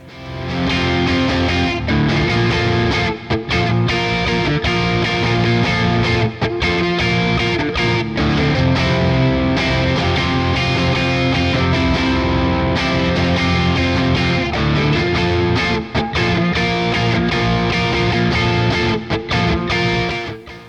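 A Gibson Les Paul Studio electric guitar with 57 humbuckers, played through a Fractal FM9 on a Mesa Boogie Triple Crown amp preset, rings out loud and distorted in sustained chords and riffs with no talking.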